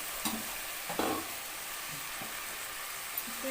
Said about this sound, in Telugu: మిగిలిన రైస్ అంతా ఇప్పుడు వేసేద్దాం